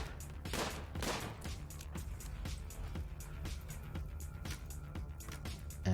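Gunfire from colonists in the colony-sim game Rimworld, a rapid volley of sharp shots and bursts, some overlapping, cracking repeatedly across six seconds at moderate loudness.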